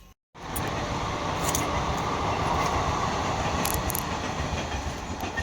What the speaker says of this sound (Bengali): এই দেখো ট্রেনের যা আওয়াজ একটু তোমাদের জন্য